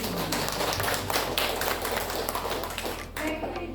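An audience at a primary school teaching workshop claps briefly. Scattered, fairly faint clapping runs under a noisy room background.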